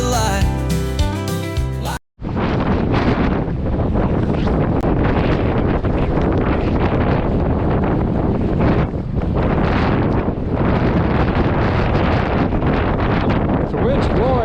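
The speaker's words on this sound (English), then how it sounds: "The wind's blowing." Strong wind of about 50 km/h blasts across a Bruce Trail ridge in horizontal snow and rain, roaring and buffeting the microphone loudly and continuously with a few brief dips, after a short different sound at the start.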